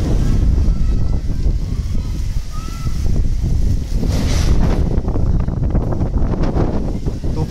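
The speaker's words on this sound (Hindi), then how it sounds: "ये देखिए तूफानी हवा चल रही है।" Strong stormy wind roars and buffets the microphone without a break at a residential complex in Titwala as a storm moves in. Loud, broadband gusting rumble dominates throughout, with no clear voices.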